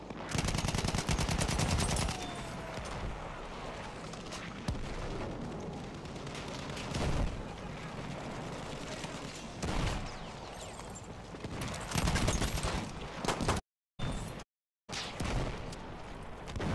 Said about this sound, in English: Oh, I'm getting shot at from the back as well.